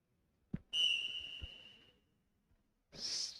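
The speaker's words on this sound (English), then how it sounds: "Whistle blows off." At a robotics competition, a soft thump, then one sharp, sustained referee's whistle blast lasting about a second, followed later by a short burst of noise.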